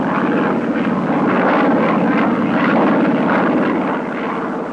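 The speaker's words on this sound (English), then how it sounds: "There were 5 strike planes on the mission, all of them loaded with a complete assortment of lethal ordnance." Strike aircraft flying a combat mission over Laos, loaded with lethal ordnance, give a loud, steady engine drone that holds near-constant through the whole stretch with no voices over it.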